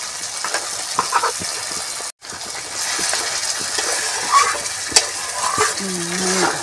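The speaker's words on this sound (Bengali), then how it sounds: "মশলাটাকে আমি ভালো করে কষিয়ে নেব" Spices frying in a pan for a dry cauliflower curry, a loud continuous sizzle with repeated spatula scrapes and stirring clatter, a brief cut partway through, and no voices.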